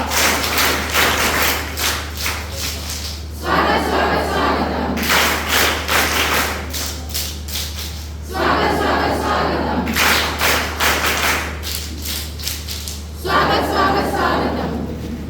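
Bursts of welcoming applause from a gathered crowd at a school scout and guide camp ceremony, several loud clapping waves alternating with short pauses over a steady low hum.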